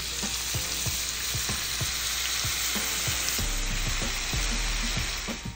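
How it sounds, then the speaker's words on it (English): An almond and saffron mixture sautés in a quarter cup of cooking oil in a wide pan over medium heat, giving a steady close sizzle with a scrape or knock from a spoon every half second or so, and no voices. "In a wide pan, add quarter cup of cooking oil. Add almond and saffron mixture. Sauté for few minutes on medium heat"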